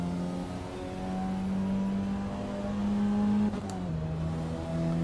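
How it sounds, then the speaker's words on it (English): A GT2 race car in the Assetto Corsa EVO racing game, its turbo spooling up as boost builds: a steady, loud engine drone with layered tones that rises slightly in pitch, then dips briefly near the end before carrying on. "You can really hear the turbo start picking up boost"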